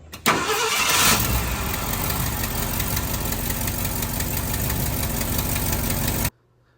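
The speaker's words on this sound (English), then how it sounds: "This is gonna be the first crank." A Ford F250 Ranger camper special truck engine cranks briefly, then catches and runs at a steady, loud idle close by for several seconds before cutting off abruptly.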